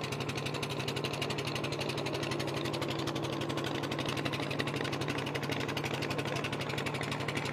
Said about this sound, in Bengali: এই দেখুন অনেক সুন্দর সুন্দর নৌকা যাচ্ছে এই বৌরাই নদীর দিকে।